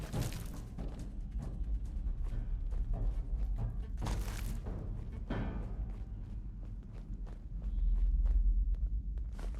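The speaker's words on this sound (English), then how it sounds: "I can hear a bunch of footsteps" Footsteps in the video game Fallout 4 patter along in a loose, continuous rhythm of thuds and scuffs amid a low rumbling game backdrop, with a couple of louder impacts.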